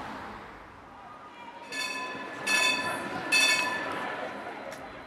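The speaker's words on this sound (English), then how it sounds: "So we're out on the trams" A tram runs from Beckenham Junction, its wheels squealing in bright, rising tones over a low rolling rumble, growing louder in bursts as it moves along the track.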